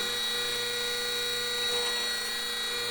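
A small electric RC glider motor, on a 440 mm span 20 g model, whines steadily at throttle with a constant high-pitched buzz and propeller hum close by.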